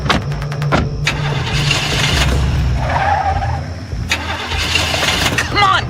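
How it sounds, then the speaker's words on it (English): A car engine cranks repeatedly and struggles to catch, with rapid starter bursts and revving near, while people talk over it inside the car. "she was having difficulty getting the car started"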